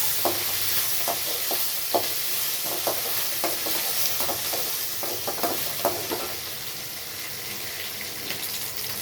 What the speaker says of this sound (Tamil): நல்லா எண்ணெயிலே வதக்கணும்.